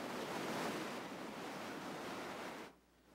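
Wind-driven storm surf pounds Walnut Beach in Milford during a December nor'easter, a loud, continuous roar of breaking waves and gusting wind that drops abruptly to a quieter rush near the end.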